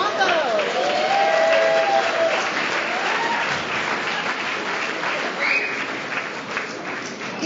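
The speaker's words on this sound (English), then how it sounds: "I would just love to give another round of applause to our Alder Creek Middle School Jazz" An audience applauds a middle school jazz combo at a community gathering, steady crowd clapping that holds strong, with a few voices cheering and talking over the top before it gradually thins.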